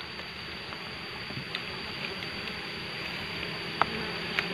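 A soft, continuous buzzing of many wild honey bees around a bee trap box hums steadily nearby, with a few faint clicks and taps over the drone.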